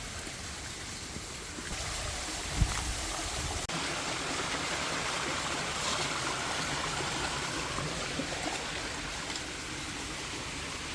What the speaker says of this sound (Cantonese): 見到前邊就會經過一個小溪。